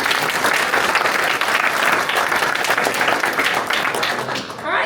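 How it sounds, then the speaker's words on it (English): An audience at a local political candidates' event applauds the District 10 candidates, producing a loud, dense burst of clapping that carries on for several seconds and then starts to fade at the end. "Let's give them a round of applause, please."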